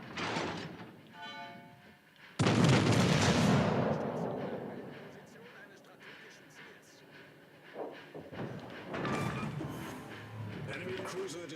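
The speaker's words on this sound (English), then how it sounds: "Enemy cruiser destroyed." An enemy cruiser blows up in the naval battle game World of Warships: Legends: a sudden loud explosive crash that slowly rumbles away, followed by softer scattered battle noises.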